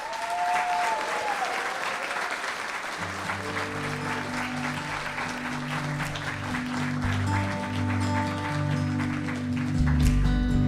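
Audience applause fills an internal medicine resident graduation ceremony hall, steady dense clapping for an award recipient who is absent, with some voices underneath and music or tones entering partway through.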